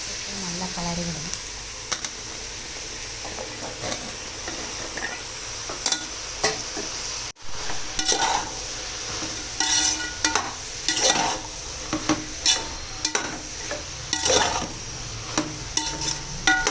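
A spoon stirs finely chopped bottle gourd and cowpeas with rice in a sizzling pan, giving soft scraping strokes and intermittent clinks over a quiet frying hiss, with someone talking at times.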